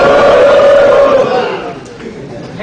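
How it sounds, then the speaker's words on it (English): A crowd gathered for a videoconference event lets out a loud sustained cheer, a dense roar of many voices that fades down over a couple of seconds. "You have a nice crowd."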